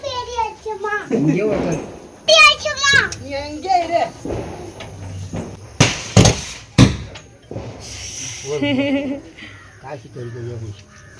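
A few sharp cracks of Diwali firecrackers burst in quick succession amid children's lively chatter and shouts.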